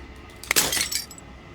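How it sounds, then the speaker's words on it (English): Glass shatters in a brief burst in the video game Slay the Princess, with a sharp break followed by tinkling fragments that fade within about a second, heard alone with no talk. "As the final fragment of glass shatters,"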